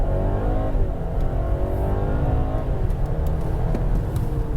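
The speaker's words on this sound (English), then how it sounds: "When you put your foot down and the engine kicks in, that is quite noisy" Petrol engine of a BMW 330e hybrid cutting in under hard acceleration, a rising, steady engine drone heard from inside the car, continuous and fairly loud with no talk.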